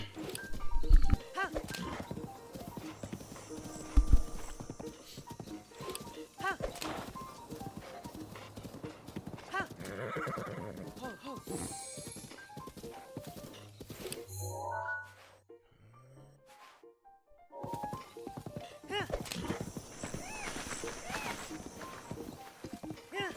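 Horse hooves clip-clop steadily in Zelda: Breath of the Wild while someone talks over them, with a brief whinny, a near-silent gap mid-way, then galloping resumes.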